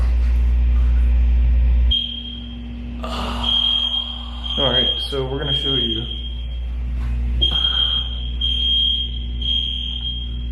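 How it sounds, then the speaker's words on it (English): A fire alarm sounds during a podcast recording, a steady high-pitched electronic tone droning throughout, cutting out briefly and resuming, while people talk over it and a low rumble fills the first two seconds. "there goes that fire alarm again"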